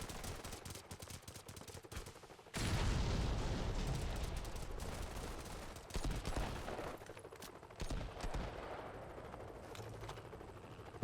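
Sniper and automatic gunfire ring out in the mobile shooter Modern Combat 5. After a quieter stretch of scattered shots, a dense, loud barrage of rapid cracks breaks out and continues.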